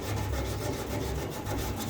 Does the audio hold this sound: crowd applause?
no